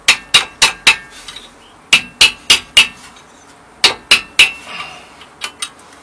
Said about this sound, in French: on va intercaler un tournevis entre la cale pour la sortir